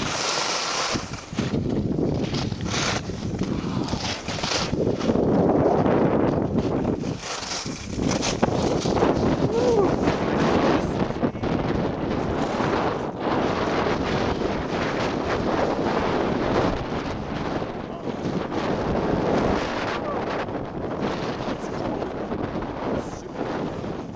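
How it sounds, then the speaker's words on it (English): Wind and blowing snow rush past during a nonstop downhill ski run at Saas-Fee, with loud, buffeting microphone wind roar that swells and dips throughout. "All this snow blowing, it's like skiing through dry ice."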